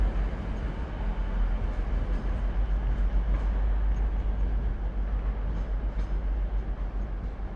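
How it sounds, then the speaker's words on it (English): A First TransPennine Express diesel train, unit 185131 bound for Scarborough, departs York Station with a loud, steady low rumble and engine drone that fills the whole stretch, heard close and without voices. "First Transpennine Express going to Scarborough."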